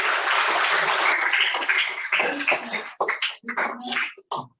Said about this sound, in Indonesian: kita tepuk tangan untuk kelompok satu